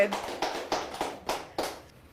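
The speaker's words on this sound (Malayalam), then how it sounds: "ഒരു ക്ലാപ്പ് കൊടുത്തേ" Hand clapping, about seven distinct claps at a steady, slightly slow rhythm, close and moderately loud, with a brief voice at the start.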